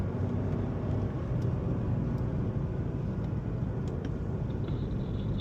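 A BMW driven on a Spartanburg, South Carolina track during M School, heard from inside as a steady, close engine roar that holds loud throughout, with a faint high whine creeping in near the end.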